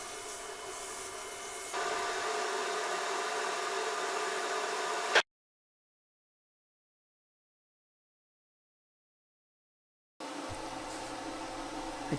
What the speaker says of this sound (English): The egg is then sanded while still in the lathe.